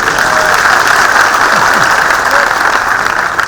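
An audience at an outdoor natural farming training event applauds, a dense, steady wash of clapping that holds at a moderate level for the whole few seconds, with a faint voice briefly underneath.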